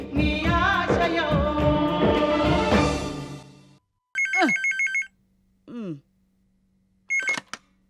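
A telephone rings in a TV drama scene, with short bursts of electronic ringing after a loud musical passage that fades out, separated by silent gaps.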